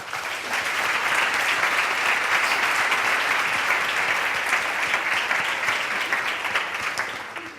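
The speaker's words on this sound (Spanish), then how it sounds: "Un aplauso, por favor." Sustained applause from the audience at an educational innovation forum at Caxton College, a dense, even roar of many hands clapping steadily without a break, fairly loud and close.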